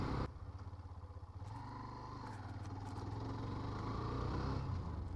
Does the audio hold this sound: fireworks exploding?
no